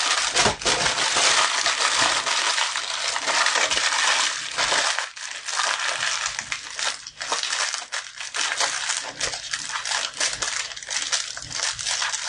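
Tin foil is crumpled and pressed around a pot to form a makeshift ashtray, a loud, close, continuous crinkling and crushing with brief pauses and sharper crackles throughout.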